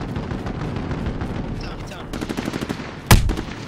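Gunfire in Call of Duty Modern Warfare crackles in rapid bursts over a dense background of game noise, ending with a sharp, louder blast near the close.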